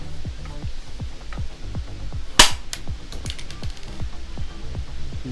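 Toy gun loaded with a pellet fired, a regular series of sharp, close clicks and snaps, roughly two per second, with one louder crack in the middle, no speech.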